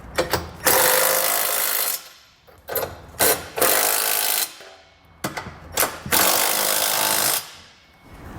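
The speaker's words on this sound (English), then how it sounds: "we can snug it down and use either a 19mm or a 3/4 inch socket" A 19mm or 3/4 inch socket drives the hardware bolts of a Curt trailer hitch receiver on a 2022 Chevrolet Equinox in loud, close bursts of whirring rattle, several pulses separated by short pauses.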